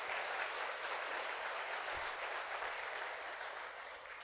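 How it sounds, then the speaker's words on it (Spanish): A church congregation claps together in a dense, continuous wash of applause at steady strength for several seconds, fading slightly toward the end. "Dale un aplauso al Señor si lo crees de corazón"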